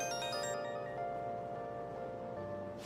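A phone ringtone from the video game Dragon Quest Monsters: The Dark Prince, a soft steady melodic tone ringing quietly under game ambience, alone without speech.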